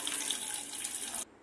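Water streams into a cup of sugar to make syrup for gulab jamun, a brief steady splashing pour that runs about a second before cutting off sharply.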